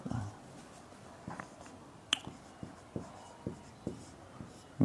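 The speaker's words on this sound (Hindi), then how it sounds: "तो हम लिखेंगे" Writing on a board comes through as quiet, close taps and short strokes spaced about every half second, faint against a low room hiss.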